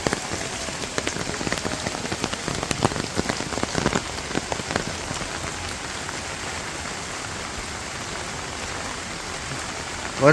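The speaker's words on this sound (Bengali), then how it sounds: "এই বৃষ্টির কারণে মানে কয়দিন যে আরো আসছে বৃষ্টি আল্লাহ জানে" Heavy rain pours steadily on a rural village, a dense, continuous hiss of drops on surfaces with scattered louder splatters, close and unbroken, no voices.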